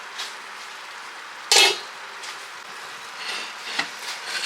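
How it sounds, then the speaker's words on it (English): Meatballs stirred in gravy in a pan, a soft continuous wet sizzle broken by one sharp clack of a utensil against the pan and a few fainter scrapes. "get those stirred around and mixed up in that gravy real good"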